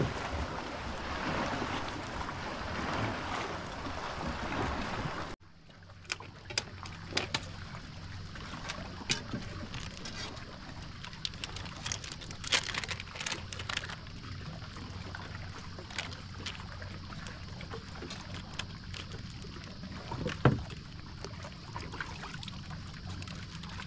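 A small boat passes on open water at a fishing spot, its loud broadband wash lasting about five seconds before falling away to quieter wind, lapping water and scattered knocks.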